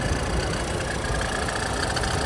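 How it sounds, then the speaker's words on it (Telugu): A 2017 Ford EcoSport Titanium+ engine idles steadily and quietly, a smooth continuous low hum with no revving and no voices. "ఇంజన్ మాత్రం చాలా సైలెంట్ ఉందండి."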